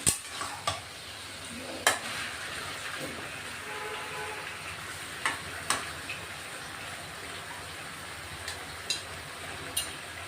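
Chicken marinated with salt, turmeric and ginger-garlic paste being stirred in a pan for cashew chicken gravy, giving a steady low sizzle with sharp scraping clicks of the spoon against the pan at irregular intervals.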